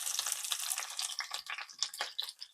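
Bok choy rinsed under running kitchen tap water, a steady close hiss of flowing water with splashy fluctuations as the leaves are moved, no talking.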